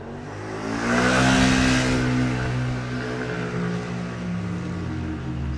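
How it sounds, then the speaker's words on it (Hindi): A kick-started scooter engine is held at full throttle on a dark ghat road, its loud, close, buzzing drone swelling early and then holding steady with no one talking. "और स्कूटर का एक्सीलेटर फुल कर देते हैं।"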